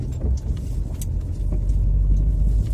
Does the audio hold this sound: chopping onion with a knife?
no